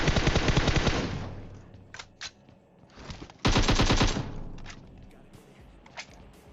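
Automatic gunfire from the PUBG Mobile battle royale game: two long, loud rapid-fire bursts with scattered single shots and thuds between them, and no talking.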